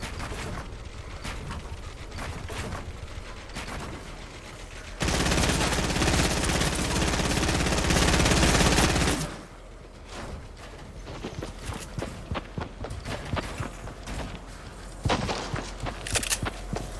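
Gunfire in the video game Fortnite: a sustained, loud burst of rapid automatic shots lasting several seconds, then scattered single shots and impacts with game noise.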